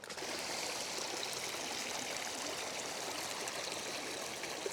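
Creek water flowing steadily on a flooded farm property, a continuous close rushing and trickling wash with no pauses and no talk.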